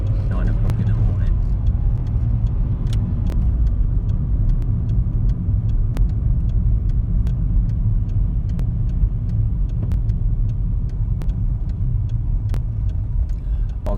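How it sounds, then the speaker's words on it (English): Continuous low rumble of road traffic in a morning jam near Bath, car engines idling and creeping steadily and close by, with occasional brief clicks and knocks on top and talk heard over the traffic noise. "you're just going to be watching traffic jams for 20 minutes"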